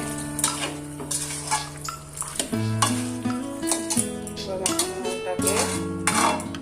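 Chicken cooks with salt, turmeric and spices in a pan as it is stirred, producing a soft sizzle with utensil scrapes and clinks. A prominent tonal background runs throughout, like music or a hum.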